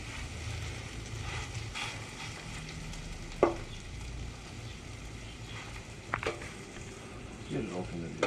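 Potato cakes fry in a pan of oil with a steady low sizzle, broken by a few sharp clatters of a utensil against the pan, close up.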